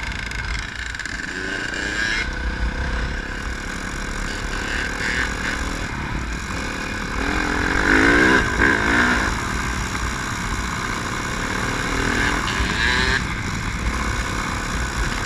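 A 2000 Honda CR250 two-stroke dirt bike runs at a hill climb, its engine droning and rising in revs, louder around the middle of the clip, over a rumbling outdoor background.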